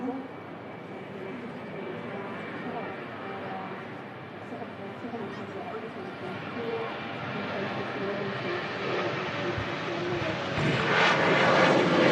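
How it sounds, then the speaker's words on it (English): A Ryanair passenger jet rolls for takeoff at Manchester Airport, its engine roar heard from a distance and swelling steadily louder toward the end. "Now rolling is the Ryanair flight to Alicante."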